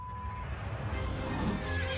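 A horse in the Elden Ring video game neighs in a steady, moderately loud whinny, alone without talk over it.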